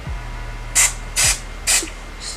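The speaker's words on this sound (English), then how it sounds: "spray that so it'll hold in place" Chi Helmet Head hairspray is sprayed onto a wig in three short, close, loud hissing bursts with brief gaps between them, over a faint low background hum.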